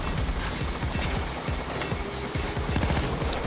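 Sustained rapid gunfire in the video game Payday 2, aimed at a sniper during a heist: dense, continuous bursts of shots with a busy, loud background of combat noise.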